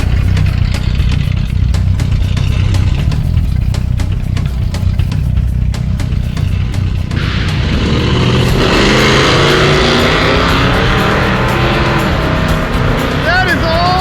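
A nitrous-fed drag car with added jet size, pulled timing and heavy blow-by makes a pass, a loud continuous engine roar that rises sharply in pitch and intensity midway as it accelerates, with people talking and shouting over it.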